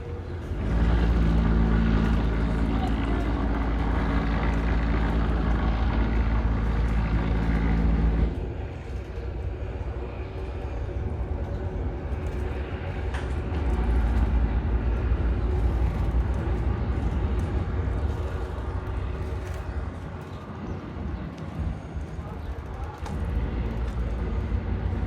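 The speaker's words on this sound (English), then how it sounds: "I can hear its thrusters going." A large ship runs its bow and stern thrusters while tied up, giving a heavy, continuous low rumble and drone that holds steady, steps down partway through, then builds again.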